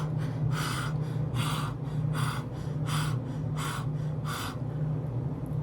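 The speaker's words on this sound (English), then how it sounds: "this is like Kali energy, right? I call it Kali breathing." Kali breathing, a yoga exercise done with the tongue stuck out: six forceful, rhythmic breath bursts about once per second, close and loud over a steady low hum, with no talking.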